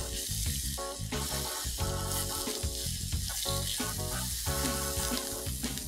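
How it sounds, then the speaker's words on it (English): Onions sauteing with browning garlic in a frying pan for pasta, a steady close crackle and hiss under what sounds like background music, with no talking. "The garlic has started browning. We'll add in the onions."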